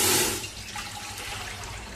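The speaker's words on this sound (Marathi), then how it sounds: "पीठ ज्या डब्याने मोजून घेतलंय त्याच डब्याने मी 2 डबे पाणी घालते." A brief rush of water pouring into a large pot on a gas stove, strongest at first and then settling into a softer steady splashing flow.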